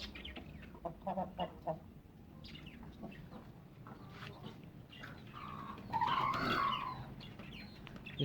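Chickens cluck in short, scattered bursts near pigeon cages on a small home farm, with a louder, sustained squawk toward the end over steady background rustling.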